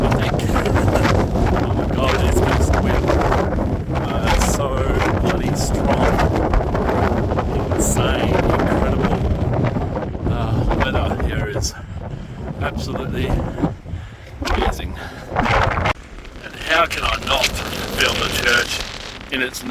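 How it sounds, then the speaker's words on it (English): Strong wind buffets the microphone in Reykjavik, Iceland, on a snowy night, a loud continuous roar that eases later into gusty bursts, with someone talking over it. "it's against the wind. It's so bloody strong."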